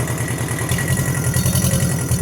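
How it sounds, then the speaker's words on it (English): A tractor with a tiller attached idles in neutral beside a compost pile, its engine a loud, close, steady chugging rumble with a fast, even pulse and metallic clatter, no voices. "Now we're just gonna put the tractor in neutral. We're gonna idle it up."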